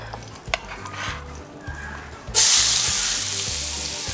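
Onions drop into hot oil in a pan and burst into a loud, steady sizzle, after quieter clinks and scraping of cookware.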